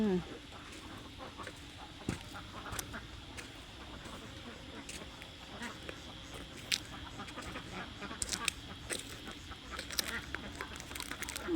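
Ducks being herded into a pen on a Thai farm, with scattered quacks and calls over steady outdoor background noise, and a person speaking intermittently nearby.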